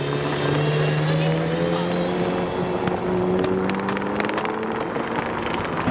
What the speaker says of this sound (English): the Valkyrie is passing through. We heard this revving earlier. Let's see what it sounds like on the drive-by.